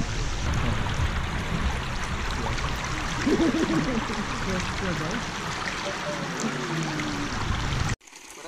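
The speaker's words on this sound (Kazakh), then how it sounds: "Су ағысын қараңдар." Water streams steadily past bamboo structures at a rice-field site, a continuous rushing and trickling that holds for about eight seconds before cutting off abruptly. A faint voice rises briefly partway through.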